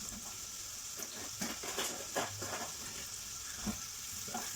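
Garlic and onions frying in hot oil in a pan, a steady sizzling hiss with a few louder crackles and spits scattered throughout, heard close with no talking.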